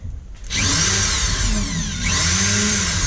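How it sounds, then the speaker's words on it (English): A power drill whines loudly and steadily while backing out a stubborn screw during fuel pump removal on a 1999 Kia Sportage, its pitch dipping briefly midway as it bites, running continuously after a short pause. "Drill this one for the 4th time."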